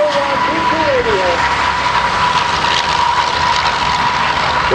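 A loud warplane with a 1,700-horsepower BMW 801 D2 radial engine roars past at an air show, a continuous close engine drone with a faint announcer-like voice briefly heard.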